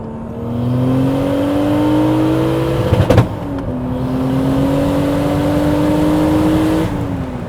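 A 20-year-old BMW E46 with a 670 hp turbocharged M50 engine accelerates hard from inside the car, its loud engine tone climbing steadily through two long pulls separated by a brief burst of noise at the gear change.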